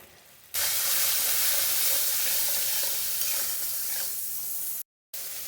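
Tomatoes and garlic-onion paste fry in a kadai with a loud, steady sizzle and hiss that starts abruptly, runs continuously and close, with a brief dropout near the end.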